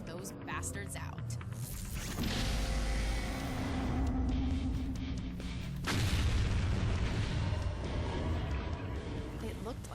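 Heavy rumbling blasts from the vortex cannon in a Contra: Rogue Corps cutscene, a deep roaring wave that swells, cuts, then surges again, with a narrator talking over it.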